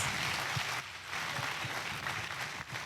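An audience at a school event applauds the speaker's mother, a broad, steady wash of clapping from a large crowd, moderately distant and continuous.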